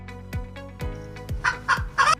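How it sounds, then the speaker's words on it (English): A rooster's call comes as a run of sharp clucking bursts that build into louder, brighter crowing notes near the end, close and clear with no talking. "Rooster."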